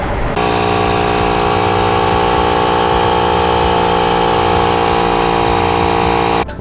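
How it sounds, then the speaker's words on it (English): A small Milwaukee portable air compressor runs steadily while inflating a car's rear tire, a loud close buzzing drone that starts abruptly and stops after about six seconds. "like this little Milwaukee air compressor. I actually do need to put some air in my rear right tire"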